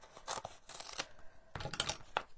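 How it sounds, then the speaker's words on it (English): Scissors snip through a double-sided sticky sheet to trim it to shape, several crisp separate cuts with short pauses between, close and clear. "So what I would do is cut it to shape"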